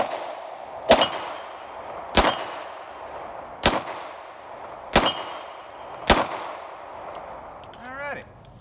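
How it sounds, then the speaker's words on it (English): Five evenly spaced single shots from a Ruger P85 9mm steel-frame pistol, each a sharp loud crack with a ringing tail, fired outdoors about a second apart. "I'm going to do some shooting today with a 9mm from Ruger."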